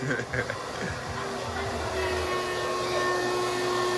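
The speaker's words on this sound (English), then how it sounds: "Vacuuming this bad boy out?" A vacuum cleaner works inside a car, a steady close whine that holds throughout, with bumps and knocks of the nozzle moving around early on.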